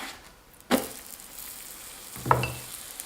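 A leek pancake fries in oil in a pan after being flipped, with a soft background sizzle and two distinct scraping spatula strokes about a second and a half apart, close by and with no talking.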